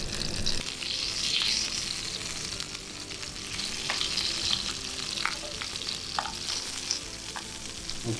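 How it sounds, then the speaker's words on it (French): Cubes of tuna pan-fry over very high heat, a busy crackling sizzle with sharp spits and pops and occasional utensil stirring, close and steady with no talk. "On va le poêler à un feu très très vif pour que ce soit très rapide."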